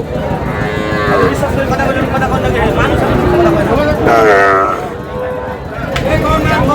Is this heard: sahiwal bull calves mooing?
yes